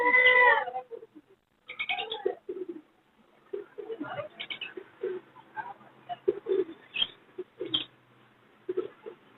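At an outdoor bird market, a talking parrot sounds off in several short, nasal squawks and chattering calls, close and fairly loud, with brief pauses between them.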